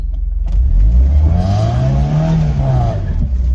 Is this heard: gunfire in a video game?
no